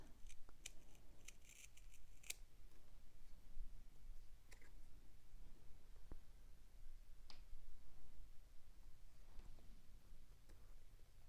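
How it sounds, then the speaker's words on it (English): Scissors trim thick fabric close to the stitches of a McCall's 7908 bodice, giving a quiet, irregular series of crisp snips and clicks with pauses between cuts. "I'm gonna grab my other scissors for this just because it's a little thicker, and I'm gonna trim pretty close to my stitches"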